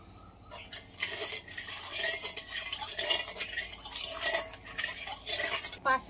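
A spoon stirs ice cream powder into a little water in a small bowl for kulfi, making quick, continuous clinking and scraping against the bowl, close and fairly clear.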